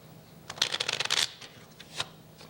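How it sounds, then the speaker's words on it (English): A deck of playing cards given an honest riffle shuffle on a late-night talk show stage, a dense burst of crisp ruffling flutters lasting under a second, followed by a few lighter card taps. "Now, this is an honest shuffle"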